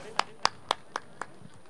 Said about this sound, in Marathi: जोरदार टाळ्या होऊ द्यात रोहित किनी साहेबांसाठी